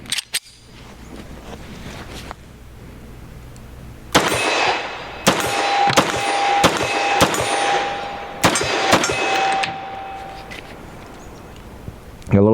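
A Nomad Defense G26X pistol fires a series of sharp, loud reports outdoors, spaced unevenly about a second apart with ringing metallic pings from struck steel targets, and a voice speaks between shots.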